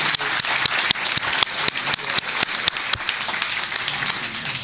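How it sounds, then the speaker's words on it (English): A room full of people applauds at a chamber of commerce lunch, a dense wash of clapping with a few sharp nearby claps standing out, steady and moderately loud without speech. "Let's give them a round of applause."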